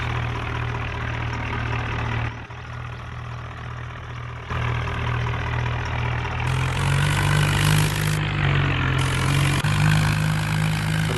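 A tractor engine idles steadily and loudly before heading to a jaggery mill, its low throbbing hum running continuously with slight shifts in pitch and no speech.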